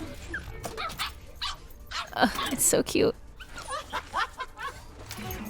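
A puppy from an Overwatch video game emote yips, barks and whimpers in short bursts, with someone speaking briefly over the cartoonish dog sounds.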